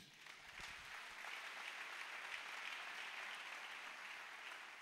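Applause from a church congregation, a steady broad wash of clapping that swells after a brief start and holds evenly throughout, heard at moderate distance with no talking over it.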